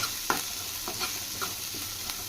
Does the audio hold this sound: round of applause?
no